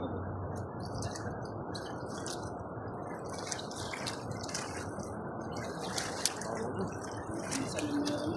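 Floodwater from a river flows through grass at night in a steady, soft trickling and gurgling wash with faint drips, low and constant throughout.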